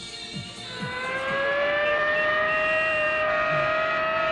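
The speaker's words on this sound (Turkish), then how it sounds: "sirenler çalıyor, kalkın!" A siren wails steadily, its pitch slowly rising and then holding, loud and sustained, with faint rumbling underneath.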